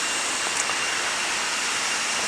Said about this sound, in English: a little waterfall, which always seems to be filled with water